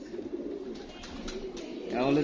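Low, soft pigeon cooing close by, with faint background voices and a louder burst of noise near the end.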